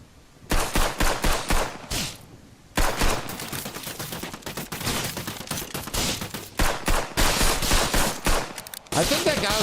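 Video game gunfire rattles in rapid automatic bursts, loud and close, with repeated volleys broken by a few short pauses and quieter stretches, over roughly ten seconds.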